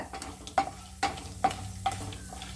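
Whole dried red chilies fry in oil as a tempering for tamarind rice, with a soft sizzle under four sharp, evenly spaced spoon knocks against the pan and a low steady hum.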